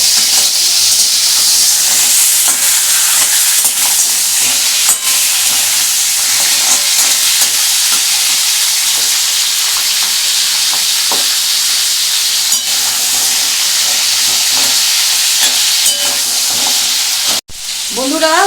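Pieces of crab fry in hot oil in a pan, giving a loud, even sizzle that continues steadily for the whole stretch, with occasional faint ticks and a sharp utensil clatter near the end.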